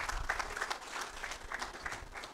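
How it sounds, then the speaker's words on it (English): Faint clapping from an audience welcoming a professor before his lecture at a university annual general meeting, a thin scattering of claps heard at a distance. "Please, let's clap for him."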